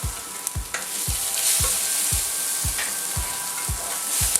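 Steady sizzling of onion frying in a pan, with regular soft scraping strokes about twice a second as it is stirred.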